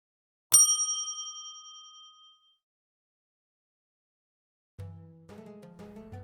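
A bright notification-style bell ding rings once, loud and clear, then rings out for about two seconds before silence; soft tonal music fades in near the end.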